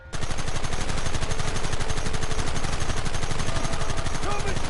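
Rapid, sustained gunfire in the Western video game Red Dead Redemption, a dense continuous burst of shots like machine-gun fire, loud and unbroken for several seconds.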